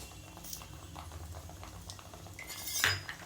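A spoon scrapes and clinks against a pan while spices are stirred into tomato thokku, with a soft steady stirring texture and one louder clink near the end; no voices.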